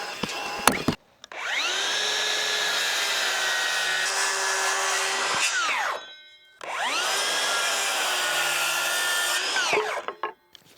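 A DeWalt table saw run through two cuts, each a sharp motor whine that holds steady and then spins down to silence, loud and close, in a cabin workspace.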